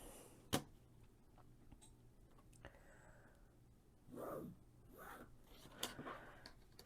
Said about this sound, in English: I'm going to draw a line on the back of my lights